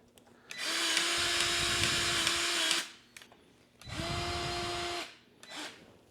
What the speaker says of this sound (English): What's cool about this grease gun is you can actually specify how many squirts you want.